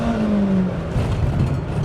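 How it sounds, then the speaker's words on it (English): BMW E30 M3 engine revving in the 32-year-old Japanese-import car, a short loud rising engine note that drops into a rough raspy rumble, heard up close from the cabin with no talk. "That revs, boy. Honestly, typical M car, just gotta rev it."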